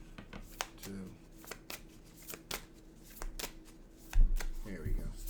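Tarot cards being shuffled by hand, a series of crisp riffles and flicks repeating in quick bursts up close, with a quiet voice speaking briefly in the background.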